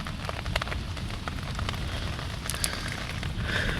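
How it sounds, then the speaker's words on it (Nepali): Hail and heavy rain falling together during a spring storm in Taplejung, Nepal, a steady dense patter of drops and hailstones drumming on surfaces, with a few louder nearby impacts standing out. "पुरै असिनाले भरिरहेछ यतै हेर्नु पानी परेको हो कि असिना परेको हो"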